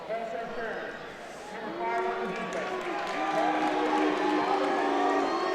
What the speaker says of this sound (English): As he gets a nice reaction from this crowd